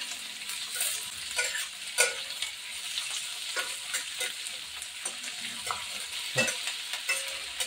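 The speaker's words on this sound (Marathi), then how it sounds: "छान असं कांदा शिमला मिरची परतून घेऊया 10 मिनिटपर्यंत" Onion and bell pepper are stir-fried in a pan for a chili chicken dish, making a continuous sizzle broken by repeated sharp spatula taps and scrapes, close and alone.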